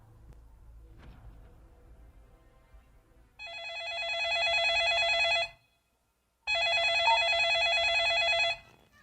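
A telephone rings during an emergency call to 119 in a disaster-response drill, two loud electronic bursts of about two seconds each separated by a short pause, following a faint low background rumble.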